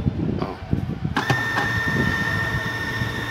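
A repaired Braun blender that had been running slowly whirs with a steady motor hum and a high whine after a few knocks and clicks, while someone speaks over it.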